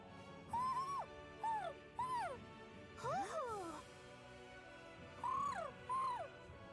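Owl hoots in the video game Tales of Arise: several clear, gliding hoots in pairs, then a scratchy two-voice exchange midway, with a soft game ambience and music underneath.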